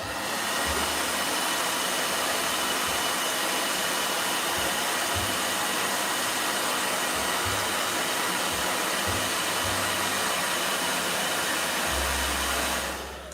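A hair dryer runs continuously for over twelve seconds at steady loud volume, blowing on gouache paint, then cuts off near the end.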